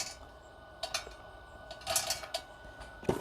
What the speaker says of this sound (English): I'm gonna add a few more pellets into this